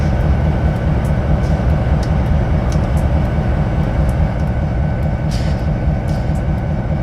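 An EMD SW1500 switching locomotive hauling a train in Train Sim 2018, a loud, steady low diesel rumble with rolling rail noise and faint clicks throughout, heard without talk.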